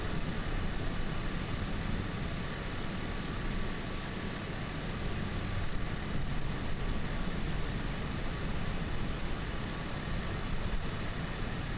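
A Cessna 208 turboprop engine in Microsoft Flight Simulator drones steadily and loudly for the whole stretch, an even unbroken roar with no voices over it.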